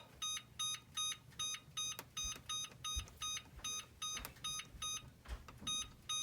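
A kitchen oven timer for baking cake beeps in a steady repeating pattern of short high electronic tones, about two per second, fairly faint over a quiet kitchen hum.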